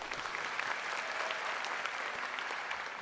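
Studio audience at a televised singing contest gives steady, even applause, a full and unbroken patter of many hands at moderate level, with no voices on top.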